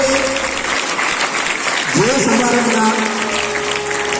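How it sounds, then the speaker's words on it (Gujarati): An audience applauding at a teacher's retirement ceremony held by a school's trustees, dense sustained clapping throughout, with a brief rising tone cutting through the middle. "તેમને જોરદાર તાળીઓના ગડગડાટથી વધાવો"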